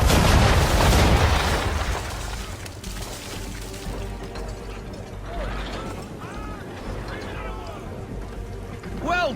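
Ship cannons fire round shot in Assassin's Creed III, a loud booming blast at the start that rolls into a sustained rumble over sea and wind noise, with brief shouted voices and whistle-like cries later on.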